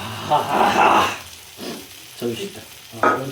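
Fish sizzles in hot oil in a pan, the frying rising and falling in bursts, loudest near the start, with a voice briefly heard over it.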